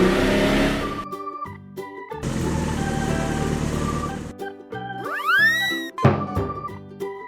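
A cartoon purple car's engine revs in short bursts, set among playful musical sounds, with a rising swoop near the end of the sequence; no voices.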